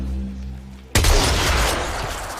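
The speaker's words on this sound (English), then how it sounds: "Destroy it with weapon fire." Weapon fire erupts abruptly after a quiet low hum, a loud, dense burst of shooting aimed at an Infestation hive in the Warframe game, sustained and close for the rest of the moment.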